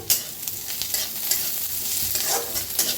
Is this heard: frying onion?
yes